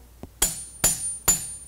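A hammer strikes a U-curved blade resting curved side up on an anvil, three sharp metallic blows at an even pace, each ringing briefly, close and loud, with a faint tap just before.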